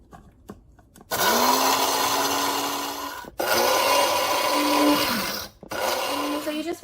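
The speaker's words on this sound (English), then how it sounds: "So we've got our coffee grinder loaded up." A small electric coffee grinder grinding dried onion whirs loudly in two long bursts separated by brief pauses, its motor pitch shifting as the onion breaks down.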